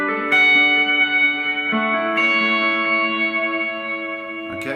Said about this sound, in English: you can hear that reverb kind of ringing out a little bit